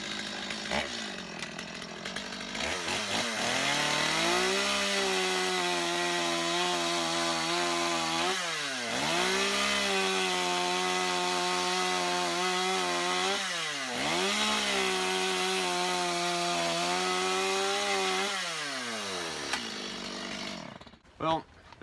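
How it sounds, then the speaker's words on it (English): A gas-powered Stihl MS 250 chainsaw cuts through pine, its loud engine whining and bogging in three long cuts with revving between, then idling down and stopping near the end. "I mean, it is a gas-powered saw."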